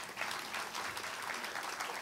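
Dense, continuous clapping from a church congregation, loud and even, filling the short stretch with no voices over it.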